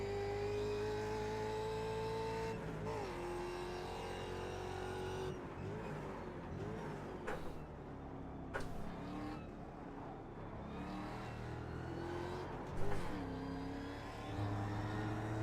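A Ford Mustang FR500S race car in iRacing revs hard on track: its engine note climbs steadily, drops sharply at each of several gear shifts, then climbs again, loud and continuous with brief tire noise.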